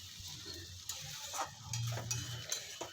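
A spoon stirs dry cauliflower and potato curry in a pan, giving faint, sparse scrapes and light clinks against a quiet background.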